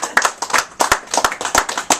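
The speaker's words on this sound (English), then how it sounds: "Let's give a big round of applause for Ray Campbell" An audience at a boxing press conference in a New York club applauds boxer Ray Campbell with dense, loud, close clapping that runs steadily throughout.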